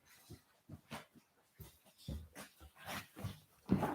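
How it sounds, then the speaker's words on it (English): A dog makes a racket indoors, with short bursts of barking, whimpering and yipping coming in uneven clusters, loud and close, rising to a stronger burst near the end, with no talk over it. "My dog's making a fucking racket."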